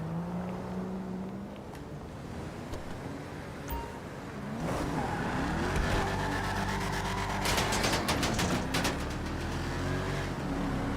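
A Shelby Cobra engine idles low at first, then rises into a louder, sustained rev with shifting pitch and several sharp snapping bursts, with no talk.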